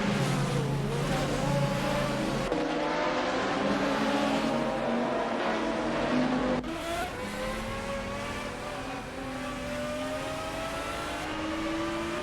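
GT race cars lap the Misano circuit in an AI racing simulator game, engines droning and rising in pitch through upshifts, with several cars layered together at a steady loud level and no talking.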